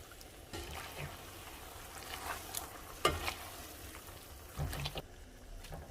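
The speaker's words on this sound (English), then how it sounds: "I'm going to get some of my pasta water, just a little bit," Fettuccine pasta sizzles and stirs in a pan as a splash of pasta water goes in, a quiet steady fry with scattered scraping and clinks of utensils.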